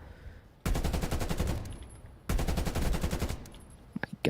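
Two long bursts of rapid, loud gunfire in the Call of Duty Black Ops Cold War video game, the second following a short pause, with a few isolated shots trailing at the end.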